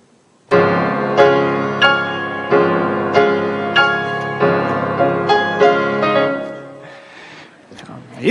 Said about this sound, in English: the correct answer is Tchaikovsky's Piano Concerto.